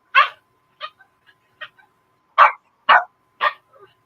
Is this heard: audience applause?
no